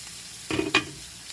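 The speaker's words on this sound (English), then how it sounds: "now that our onions are going, now we're going to push them over to the side and add our seasoned flour" Onions sizzling in a frying pan as a spatula pushes them aside, giving two quick scraping strokes over a soft, steady sizzle.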